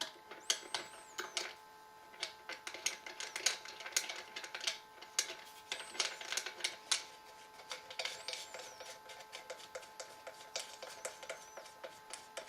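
A hex bolt on a Ruger 10/22 stock is backed out with a small key, producing a run of quick, sharp metallic clicks and ticks in irregular bursts, close and fairly quiet.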